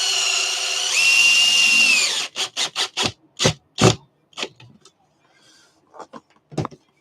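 A power drill whines steadily for about two seconds driving a long screw into FRP panel in a box truck build, then short bursty drill pulses and clicks follow in quick succession, close and loud.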